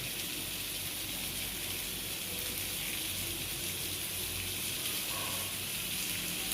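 Tamarind juice goes into simmering drumstick sambar, a steady hissing, bubbling rush of liquid in a hot pot, fairly quiet and even throughout with no talking.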